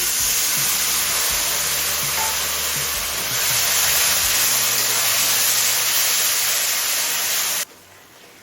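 Steady, loud hiss of water poured onto hot ground coriander, Kashmiri chili and turmeric frying in a pan for chicken ghugni, a dense sizzle that fills the clip and cuts off abruptly near the end.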